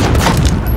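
A missile blast from the Call of Duty Modern Warfare campaign lands as a loud, close, booming rumble lasting under a second, ending with a sharp burst.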